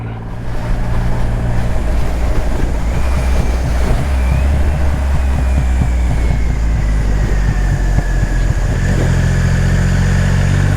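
Triumph Rocket 3R, a big stock motorcycle engine with 165 horsepower and 221 Nm of torque, drones steadily and loudly at riding speed with a deep, throbbing rumble that never lets up.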